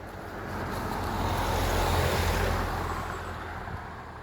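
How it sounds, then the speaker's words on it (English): A single car passes at moderate distance, its broad road and engine rumble swelling to a peak around the middle and then fading, with some wind noise and no talk. "This car is noise."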